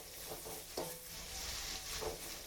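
Green chilies sautéing in a pan for a fish curry, a faint steady sizzle with a few soft spatula scrapes close by.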